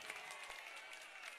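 Applause from an audience at a stage event, a brief dense patter of many hands clapping at moderate distance, steady and fairly faint, with no clear speech.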